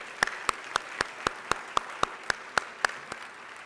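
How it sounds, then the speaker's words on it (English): Claps ring out at a fall charity luncheon, about a dozen crisp, evenly spaced strikes in a steady beat, close and distinct over a quiet room rather than a blended crowd roar. "Big round of applause."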